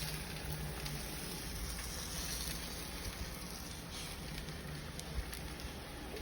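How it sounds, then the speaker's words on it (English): Fresh lemon juice hits a hot pan of roasting potatoes, giving a steady, soft hiss of sizzle and steam that holds level for several seconds, fairly faint, with no talk. "we'll incorporate some fresh lemon now so it can hit the hot pan and steam into the potatoes"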